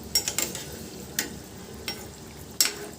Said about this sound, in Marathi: छान तळून घेऊयात खालून छान असा गोल्डन कलर येतोय